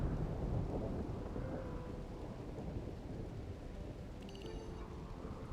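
Heavy rain pours through a thunderstorm in RimWorld, with a deep rumble of thunder rolling under a steady, dense hiss of rainfall that continues throughout.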